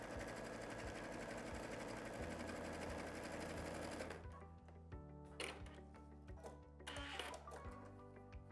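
Sewing machine running steadily while stitching zigzag lines across a quilt coat, a loud dense whir for about four seconds, then shorter stop-and-start bursts of stitching.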